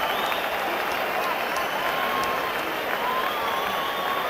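A boxing arena crowd at a 2000 women's bout applauds and cheers in a dense, continuous roar of clapping, with a commentator speaking over it.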